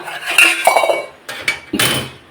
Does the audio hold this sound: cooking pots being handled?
yes